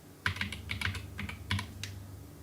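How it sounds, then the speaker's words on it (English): Keys clack on a Geek GK61 61-key mechanical keyboard in a quick, irregular run of a dozen or so crisp strokes, close up and fairly quiet, with no voices. "And let's type my name."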